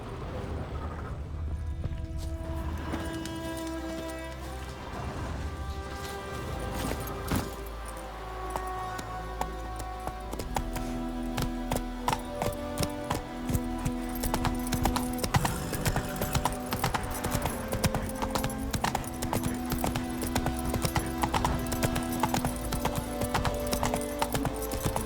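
A horse galloping in The Witcher 3, steady rhythmic hoofbeats pounding under a layer of game music, with jingling tack and a brief whinny, loud and close throughout.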